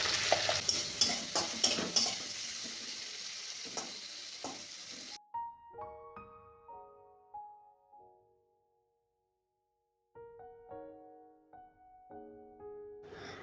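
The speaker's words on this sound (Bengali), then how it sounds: "মা ভেন্ডিটা ভেজে নিচ্ছে" Okra fries in a pan at home, with a busy sizzle and quick stirring clatter for about five seconds. It then gives way to a short, gentle melody of sustained tones.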